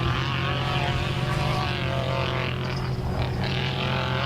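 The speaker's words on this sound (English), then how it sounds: "Now you hear that American Rentals truck really eat." American Rentals off-road race truck engine at full throttle during a desert rally stage, a loud, steady, droning roar with a strong low hum that holds on without a break.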